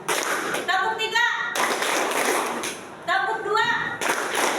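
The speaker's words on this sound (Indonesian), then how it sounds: "Tepuk satu, tepuk tiga" A classroom of students claps hands in a counted rhythm pattern, with short bursts of clapping separated by a teacher's spoken counting, fairly close and lively.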